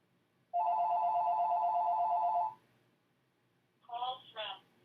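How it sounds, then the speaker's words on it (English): A landline telephone rings with one sustained electronic tone lasting about two seconds, loud and close, followed by a short synthesized voice announcement. "And I forgot to take the phone off the hook."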